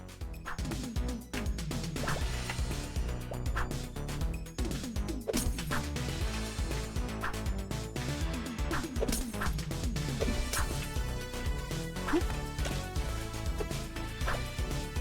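Glass bottles smashing amid fighting in the video game Karate Survivor, repeated sharp crashes and thwacks scattered over a continuous loud game soundtrack.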